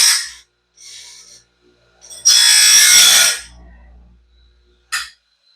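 A grinding stone works the teeth of a new Norwood Stellite band saw blade in short bursts, several brief rasping passes and one longer loud grind, separated by near silence.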